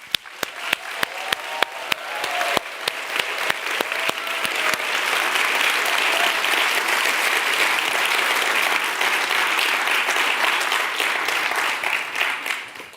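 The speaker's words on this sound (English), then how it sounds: "Let's give them a round of applause." An audience at the Superheroes of Development 2024 award ceremony applauds the finalists. A few distinct claps quickly grow into sustained, full applause that fades near the end.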